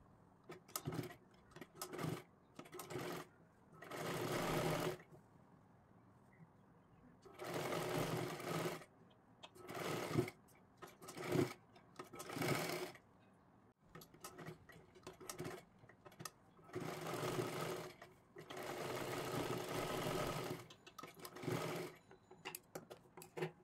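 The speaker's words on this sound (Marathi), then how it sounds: "आता इथे एक आपल्याला शिलाई मारून घ्यायची आहे" A sewing machine stitches a tucked size 38 blouse in repeated short bursts of fast, close whirring separated by pauses, with someone speaking between runs.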